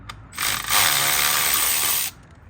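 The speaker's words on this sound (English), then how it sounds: "now taking out all these bolts on top" A ratchet removes bolts from the engine rail of a 2014 BMW 328i GT xDrive during a valve cover gasket job, a single close buzzing run of rapid clicks lasting under two seconds before stopping.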